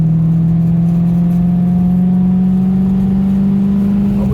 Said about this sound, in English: the Fab Speed exhaust here helps and accentuates the sound, but even the standard Maserati Spiders sound really, really nice